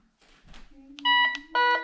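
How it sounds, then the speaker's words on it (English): A metal detector beeps indoors in a house full of nails and electromagnetic interference: after a soft rustle, a sustained tone with two bright, loud beeping bursts stacked in harmonics, close and clear. "it's gonna beep because there's a lot of nails and EMI in my house"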